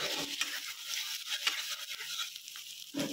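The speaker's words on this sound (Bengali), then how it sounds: "আদা রসুনের কুচিটা এমনভাবে ফ্রাই করবে একদম লো মানে ইসে ফ্লেমে সিম করে" Chopped ginger and garlic sizzle gently in oil over a low flame, a soft continuous fry with light stirring scrapes, close and steady with no voices.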